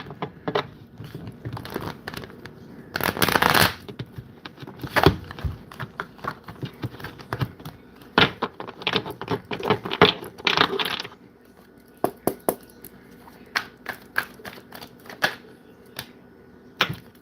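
Tarot cards riffled and shuffled repeatedly, with a burst of rapid flutter followed by scattered snaps, taps and clicks of handling, close up with no talking.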